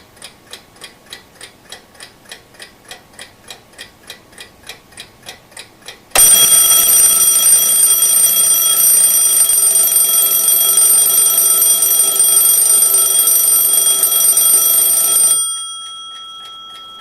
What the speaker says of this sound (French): C'est le cri de réveil. Et c'est moi-même qui ai réglé.